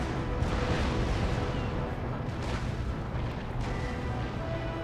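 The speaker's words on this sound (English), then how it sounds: "all of these ships can fire without any risk of return fire" Warship cannons in a naval battle from Empire: Total War, a dense continuous rumble of booming broadsides with overlapping blasts and no clear gaps, loud throughout.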